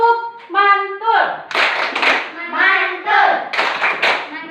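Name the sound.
children clapping a rhythmic applause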